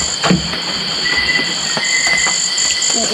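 Insects buzz and trill steadily at night on a farm field, a continuous high chorus with frog-like croaks and faint clicks scattered through it, fairly loud and close with no talking.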